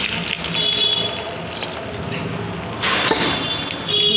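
Ghee and turmeric coated rice tipped into a kadai, a close rushing pour of grains with a brief clink, swelling in two bursts against a faint background hiss.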